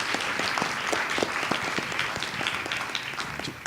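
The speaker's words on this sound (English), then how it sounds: "Give them a round of applause." Audience applause at a public discussion event on immigration and belonging, a steady wash of dense clapping from a crowd that holds evenly for several seconds with no talk over it.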